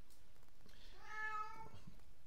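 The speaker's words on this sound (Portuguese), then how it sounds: "Peço desculpa que tenho aqui o gatinho a miar" A single drawn-out kitten meow rises and falls, somewhat distant and faint over a steady background hiss, with no voices.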